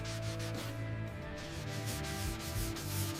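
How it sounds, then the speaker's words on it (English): Fine grit sandpaper is rubbed by hand across the curves of a motorcycle fuel tank, producing a soft, continuous rhythmic scraping that stays close and steady, with faint mechanical hum beneath. "Hand sanding the curves of the fuel tank with fine grit sandpaper."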